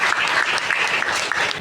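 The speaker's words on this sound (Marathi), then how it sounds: "जोरदार टाळ्यांचा गडगडाट." Loud, sustained audience applause fills a community award ceremony of the Kshatriya Maratha Ghadigaonkar society in Diva, a dense steady patter of many clapping hands with no voices over it.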